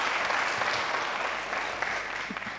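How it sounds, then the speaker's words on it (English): An audience at an independent candidates' debate applauds as candidates are welcomed on stage, with steady, moderately loud clapping from many hands throughout, slowly tapering near the end. "no jeers, no applauding or clapping, except for this moment, as we welcome the candidates on stage"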